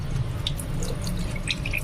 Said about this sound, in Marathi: आपल्याला स्वच्छ असं फक्त पाण्याखाली असं हे करून घ्यायचं आहे